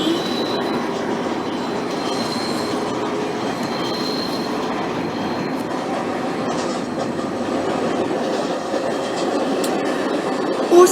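A New York City subway train in the Open BVE train simulator game running at full speed, with a loud, steady rumble of wheels and car noise and faint squealing throughout, no talk.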